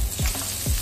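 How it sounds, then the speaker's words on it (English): Ginger sizzling in a hot pan as the base of a sauce for shrimp cakes, a steady crackling fry with a couple of low stirring scrapes, close and alone without talk. "to make the sauce to go with our shrimp cake, we will be frying"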